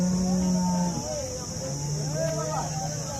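Cows low at a busy livestock market, with one long deep moo followed by a second drawn-out call and rising, wavering lows, set against a constant high background hum and faint crowd noise.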